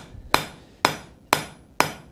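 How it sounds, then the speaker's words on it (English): Four sharp, ringing hammer blows land at an even pace as a cross peen hammer with a sharp peen forges texture into a steel pine tree hook, each strike loud and close with a short metallic decay. "I've switched cross peens to a cross peen hammer that has a much sharper"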